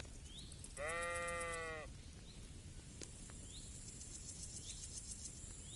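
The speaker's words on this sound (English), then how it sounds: "I mean the sheep." A single sheep bleats in a video game, a short wavering call near the start over quiet ambient background with faint insect-like chirps.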